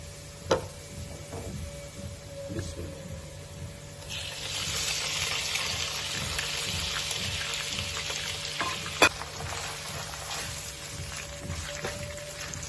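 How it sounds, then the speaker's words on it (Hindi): Chicken frying in a pan over a normal flame for a chicken and vegetable samosa filling, a steady moderate sizzle that swells louder midway, with occasional stirring knocks and no talking. "जब तक इसका कलर नहीं चेंज होता, इसको अच्छी तरह भून ले"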